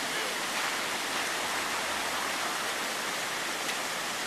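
A mountain stream in the Dolomites flows steadily, a dense, even rush of water held at constant loudness and heard alone without talk.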